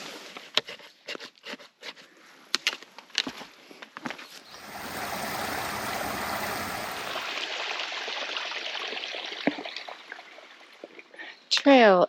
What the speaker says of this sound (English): I hear water far below